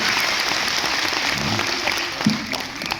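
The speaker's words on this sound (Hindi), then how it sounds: "एक बार तालियां इनके लिए बजाइए, 2 तालियां" A hall audience at a youth empowerment event in Bhubaneswar applauds a woman with steady, dense clapping that holds at an even level for the whole stretch, with faint voices underneath.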